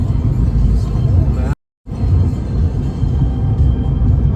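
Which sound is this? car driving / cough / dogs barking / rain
car driving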